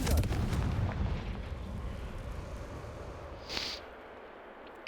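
A Confringo fire-blast spell from Hogwarts Legacy explodes with a loud, broad rumbling burst that trails off over a few seconds, followed by a smaller sharp crackle near the end.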